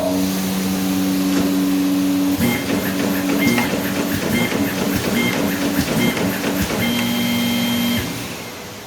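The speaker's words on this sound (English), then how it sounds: "And now the machine is ready to perform the job that before we have creased." A Bacciottini OXO creasing and folding machine runs loud and close, a dense rapid clatter of feeding and folding over a steady mechanical hum for most of the stretch before the noise tapers off at the end.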